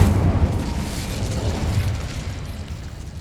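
A deep rumbling whoosh of a fire blast from an Incendio spell, loud at the start and slowly fading as a sustained roar with no voices.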